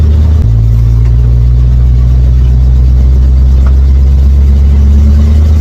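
A car with a rebuilt transmission on a test drive, its steady loud engine drone and road rumble filling the cabin throughout, with a slight shift in pitch early on.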